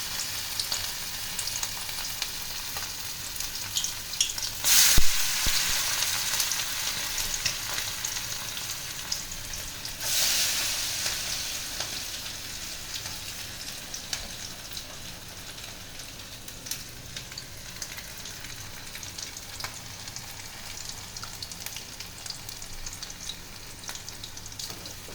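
Marinated boneless chicken pieces, seasoned with ginger, garlic and homemade spices, sizzle and fry in hot oil in a kadai, a steady close crackle with louder bursts as pieces drop in, no voices.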